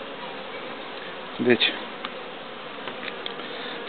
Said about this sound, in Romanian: Albine lucrează cu spor la eliberatul ei.